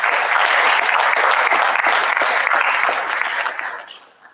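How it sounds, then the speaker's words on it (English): Loud, dense audience applause for faculty and staff at a junior honor society induction ceremony, sustained for several seconds before tapering off and fading near the end. "A round of applause, please, for the faculty and staff."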